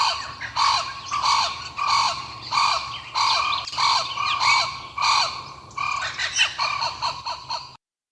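A recording of a blue-winged kookaburra plays loud, harsh, squawking cackles repeated in a quick rhythmic series. The calls keep an even level and never build to a climax, then cut off abruptly at the end.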